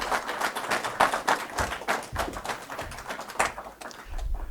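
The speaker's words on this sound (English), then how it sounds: "Let's give our speaker a round of applause, please." An audience applauds, a dense patter of many hands clapping steadily for several seconds before thinning out at the end.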